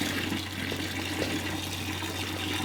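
Water poured from a hose or container onto chicken feed makes a steady, close rushing pour that runs evenly from start to finish, with no talking.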